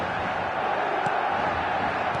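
Football stadium crowd cheering and roaring steadily, a dense continuous wash of massed voices with occasional louder shouts rising out of it.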